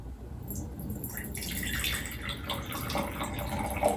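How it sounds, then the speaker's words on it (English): Water pours into mason jars in a steady splashing stream, rising slightly in pitch as a jar fills, close and continuous. "we are going to fill our jars with about a quarter cup of water"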